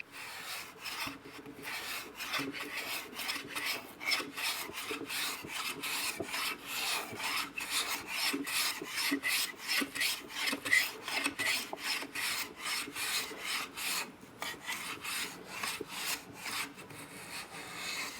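Hand plane shaving along wood for a guitar neck, close, repeated rasping strokes in a steady rhythm with no talking.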